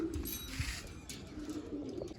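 Soft, low cooing from coop pigeons comes in short repeated bursts, quiet and near, with faint rustling in the background.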